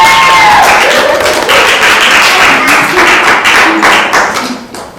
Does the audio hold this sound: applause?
yes